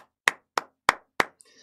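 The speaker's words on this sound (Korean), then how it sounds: "박수!" Four sharp, evenly spaced hand claps ring out close and loud, each a crisp slap with a quick decay, followed by a brief faint rustle.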